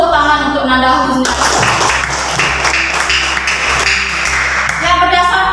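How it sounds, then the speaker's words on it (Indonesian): A classroom group claps for a student, a steady spread of overlapping claps that starts and stops abruptly, with a constant electrical hum beneath and tonal sounds at either edge. "Tepuk tangan untuk Nanda Husni."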